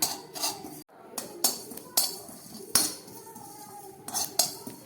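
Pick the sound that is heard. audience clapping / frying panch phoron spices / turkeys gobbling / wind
frying panch phoron spices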